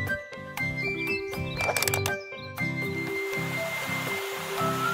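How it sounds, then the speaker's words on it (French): Animated children's cartoon fountain running after a tanker truck fills it, a steady trickle of flowing water under busy background music. "Regardez, la fontaine fonctionne."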